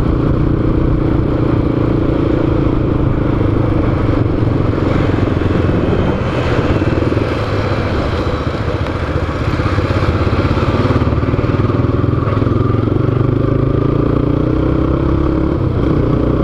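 A motorcycle riding through the city centre of Tatuí, Brazil, its engine droning steadily and loudly for the whole stretch with road rumble and wind, no talking.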